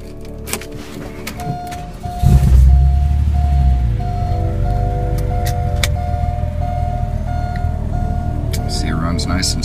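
A 1996 Porsche 911 Turbo is started, the starter catching about two seconds in and settling into a steady, smooth idle that holds to the end, close and fairly loud, with a faint tonal chime and a few clicks beforehand.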